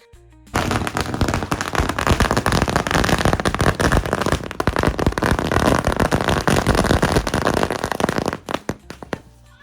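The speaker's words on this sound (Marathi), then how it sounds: "आता मी बाहेर आलो फटाके फुडायला" Firecrackers burst outdoors during Diwali night celebrations, a dense, nonstop crackling barrage of rapid sharp pops, loud and close, running for several seconds before tapering off into a few scattered final bangs.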